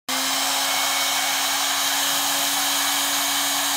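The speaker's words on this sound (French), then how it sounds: "Et on va faire le décapeur thermique là-dessus." A heat gun blasts hot air in one loud, steady, unbroken roar with a constant motor whine running underneath, close up and heard alone with no talking over it.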